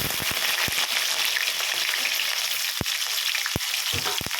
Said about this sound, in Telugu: ఆనియన్ పచ్చిమిర్చి వేస్తున్నా బాగా వేడెక్కింది కదా